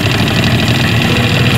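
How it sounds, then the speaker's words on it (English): A boat engine runs at high throttle on a Florida alligator hunt, a loud, steady low mechanical drone with a close vibrating rumble. "It shifts, but the throttle's high."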